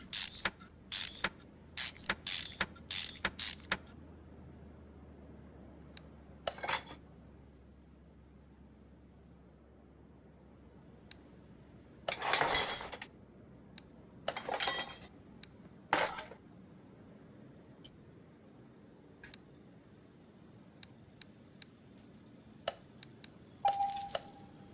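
Metallic clicks and clattering ratchet bursts from unscrewing bolts on a Nissan Silvia S14 in Car Mechanic Simulator 2021, scattered sharp ticks with several longer rattling runs over a quiet hum, no talking.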